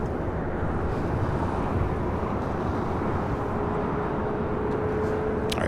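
An American Airlines A321 airliner rolls down runway 25 right at LAX, its engines a broad, even roar that holds steady from start to finish, heard from a distance with no talk over it.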